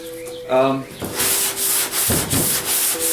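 Rapid back-and-forth strokes of sandpaper over primer on a BMW 2002 body panel, close and rhythmic bursts of rasping friction, with a brief voice speaking near the start.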